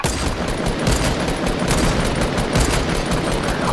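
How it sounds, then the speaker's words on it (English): Continuous, dense automatic gunfire in the video game Fortnite, loud and close with rapid overlapping shots filling the whole stretch without a break. "Just keep shooting him."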